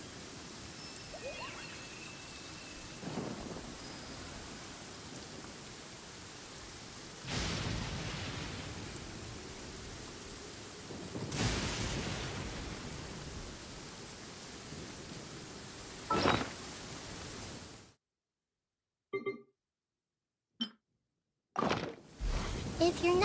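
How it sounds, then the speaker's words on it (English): Stormy weather in Genshin Impact: steady rain hiss with several loud rolling thunder bursts spaced a few seconds apart, then the sound cuts to near silence broken by brief bits. "Did you know that the sound of thunder is the prelude to new life?"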